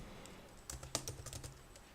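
Someone types code on a computer keyboard in a brief, quiet burst of rapid key clicks with no talking.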